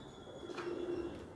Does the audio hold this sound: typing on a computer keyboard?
no